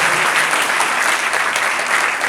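Applause from a church congregation at a parish farewell for its priest, honoring the church committee: dense, loud, continuous clapping from many hands filling the whole stretch.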